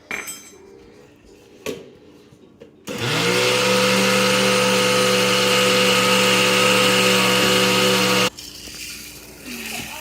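An electric mixer grinder pulverizing roasted spices into Iyengar sambar powder, a loud steady whirring motor roar that starts abruptly after some light clinks and cuts off after about five seconds.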